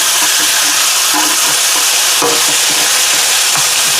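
Pork chops frying in a cast-iron-style skillet with onions, a loud continuous sizzle and spatter with small pops throughout, heard up close and alone.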